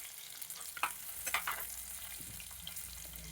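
Chopped shallots and two green chilies sizzle and sputter in hot coconut oil, a soft steady hiss broken by a few crackles and stirring scrapes, close and fairly quiet.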